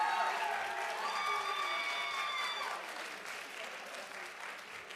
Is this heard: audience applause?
yes